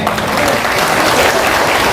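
Dense applause from an audience at an election rally in India, a steady wash of many hands clapping at close range for a couple of seconds, with no speech over it.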